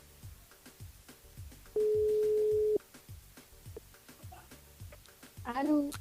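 A ringback tone on a radio show's phone call to a mobile sounds as one steady tone of about a second, over rhythmic background music and talk, before the line goes on.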